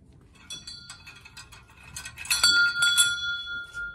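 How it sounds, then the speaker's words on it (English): A shop entrance bell at a bazaar in Chapala, Mexico rings in a flurry of bright metallic strikes, building to a louder cluster of chimes with ringing overtones that linger and fade. "You can ring the bell to come in."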